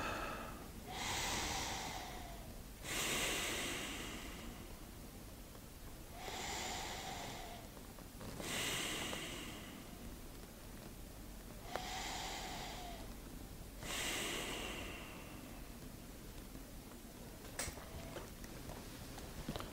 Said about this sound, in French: reprends 3 respirations profondes